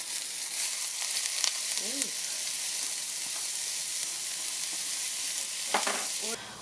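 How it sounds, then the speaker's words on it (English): Diced onions frying in hot oil in a pan, giving a steady close sizzle throughout with occasional faint scrapes from stirring. "so while my onions are cooking"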